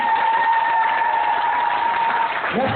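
An audience at a political party general assembly applauds, a continuous even wash of clapping that tapers slightly near the end.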